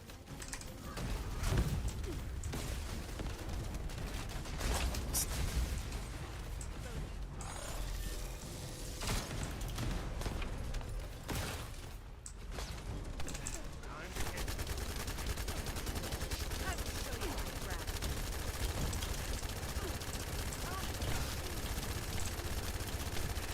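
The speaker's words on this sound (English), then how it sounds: "Take my gunfire." Rapid gunfire from The First Descendant, a sci-fi shooter game, rattles in dense bursts through a hard mode farming session, nearly continuous and layered with mechanical clatter while a voice talks faintly underneath.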